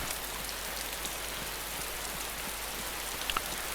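Steady rain falls in the survival video game DayZ, a soft, even hiss of drops on surfaces, fairly faint and continuous with no talk over it.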